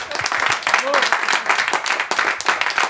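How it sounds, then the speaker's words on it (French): Studio audience applauding for the Belgian cartoonist Philippe Geluck on a morning radio show, a steady dense wash of clapping that runs the full length with no talk over it. "Vos applaudissements pour Philippe Geluck."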